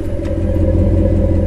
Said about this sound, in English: Is that truck running?